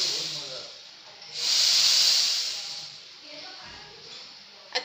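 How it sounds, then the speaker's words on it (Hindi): Milk coming to a boil in a pan for cardamom and ginger chai gives a steady hiss that swells into a louder, bright steaming rush before easing back. A faint voice can be heard in the background. "देखिए उबाल आ रहा है"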